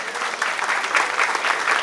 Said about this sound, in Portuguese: Uma salva de palmas para o nosso presidente